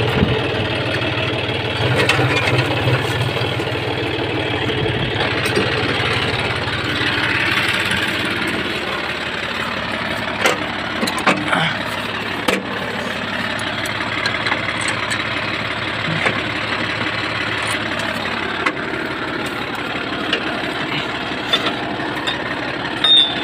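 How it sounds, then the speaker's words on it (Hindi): John Deere tractor engine idling on a farm, a steady low rumble that holds for the whole stretch with faint clicks and rattles on top. "एक्चुअली गाइस मैं इस ट्रैक्टर को घर पे क्यों ले जा रहा हूँ"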